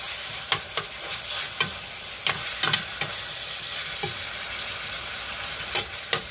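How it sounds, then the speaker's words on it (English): Ground beef frying in a pan on an electric stove gives a constant soft sizzle, broken by sharp scraping clicks as a utensil stirs it at irregular intervals. "So now I'm gonna mix up the ground beef."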